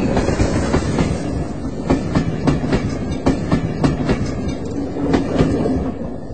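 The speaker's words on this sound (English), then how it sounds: "as the train came rattling by." A train rattles by close and loud, wheels clacking in a steady rhythm over a continuous rumble, with no voices.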